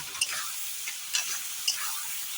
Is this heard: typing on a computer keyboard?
no